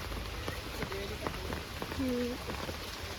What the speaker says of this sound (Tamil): மழை இரிட்டேஷன் பண்ணுது